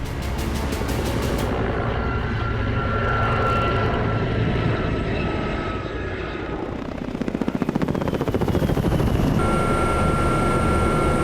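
Helicopters sit on the ground during an evacuation from Azovstal with their engines left running. They make a loud, steady turbine whine and rotor roar, and a rhythmic rotor thumping swells near the end, with no voices.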